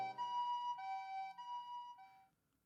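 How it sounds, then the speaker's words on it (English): Police car and ambulance sirens wail together at night, a steady rising-and-falling tone that holds for about two seconds before dying away into silence. "the sounds of patrol cars and ambulances fill the dead air before fading out into the night."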